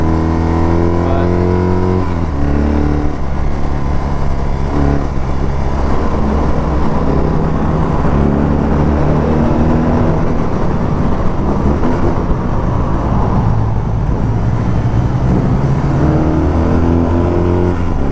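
A 2022 BMW R 18 Transcontinental boxer motorcycle engine under way, a loud steady low drone whose pitch shifts as it pulls, heard close and continuous with wind rush.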